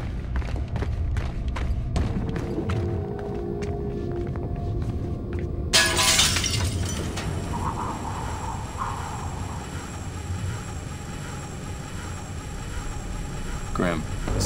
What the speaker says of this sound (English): The only way out is through the glass and fast rope down.